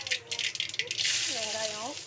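Mustard seeds dropped into hot oil in a pan for keerai kootu, sizzling and crackling with small rattling pops, fairly close, while a voice talks over the first half.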